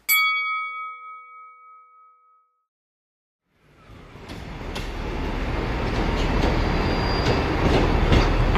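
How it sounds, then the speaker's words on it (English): A passenger train pulls into a station platform, a loud broadband rumble of wheels and carriages building and holding steady, with squeals and clicks, after a chime or bell tone at the start and a brief silence. "As your train arrives"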